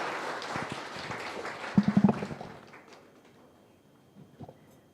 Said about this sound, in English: We can have a huge round of applause for our panelists.